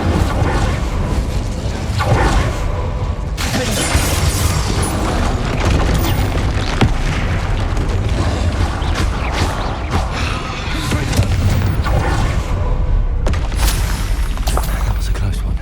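A fire spell is cast in Hogwarts Legacy: loud, dense booming blasts and crackling bursts fill the scene, with roaring swells and a voice shouting over the action.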